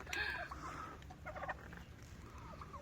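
Turkeys at a farm along a walking trail in Umbria, Italy, give brief bursts of fowl calls and gobbling, fairly near, against a steady outdoor background.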